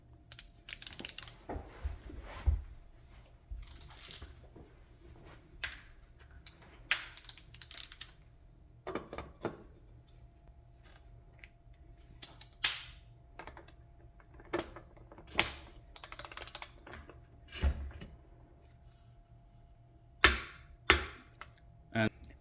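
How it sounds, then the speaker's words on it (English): A torque wrench tightens external Shimano bottom bracket cups on a bicycle, giving sharp, scattered mechanical clicks and ratcheting snaps spread across the span, close and fairly loud over a low steady hum. "all that's left now is to torque up the cups with a high quality torque wrench"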